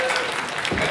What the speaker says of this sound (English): Can we have a round of applause for the convention staff?